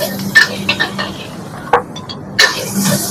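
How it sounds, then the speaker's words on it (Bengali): Vegetables tossed with black pepper in a pan while cooking, giving a few sharp clinks and scrapes of utensil on pan spaced across a couple of seconds over a low steady background hum. "আমি ব্ল্যাক পেপার দিয়ে দিলাম। আমি এখন নাড়াচাড়া করব।"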